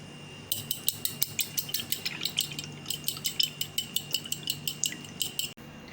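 Whisk or fork rapidly beating egg with half a cup of water and half a cup of milk in a bowl for chicken nuggets, a steady run of quick metallic clinks and taps against the bowl, close and alone.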